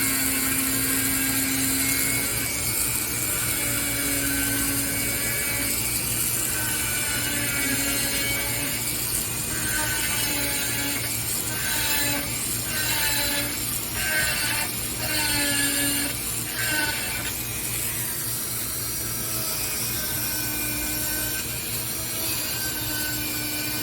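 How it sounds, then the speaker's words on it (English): Dremel rotary tool carving lines into wood for a wood spirit carving, a steady high whine with repeated short grinding strokes, close and continuous without talk. "we can use our Dremel for that to start the lines anyway"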